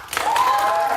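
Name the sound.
studio audience clapping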